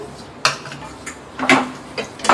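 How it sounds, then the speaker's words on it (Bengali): A spoon stirring potatoes in a metal cooking pot, giving several sharp, separate clinks and scrapes spaced irregularly over a couple of seconds, close and fairly loud against a quiet kitchen background. "আলুগুলো নাড়াচাড়া করছি।"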